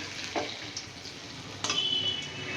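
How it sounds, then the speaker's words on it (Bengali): Ash gourd fritters fry in hot oil in a wok over a medium gas flame, making a soft, even sizzle with a sharp clink partway through. "এবার এক পিঠ ভাজা হলে অপর পিঠ উল্টে ভালো করে ভেজে নিচ্ছি"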